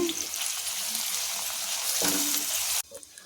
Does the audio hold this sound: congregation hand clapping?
no